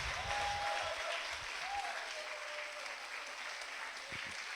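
Congregation applauding steadily through a Sunday church service, a dense, even wash of clapping that holds at a constant level from start to finish, with a faint tone lingering underneath.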